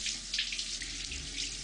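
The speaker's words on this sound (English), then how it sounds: "That handheld water sprayer I'm using saves a lot of time and water" A handheld water sprayer rinses a bulldog, giving a steady close hissing spray of running water with no voices.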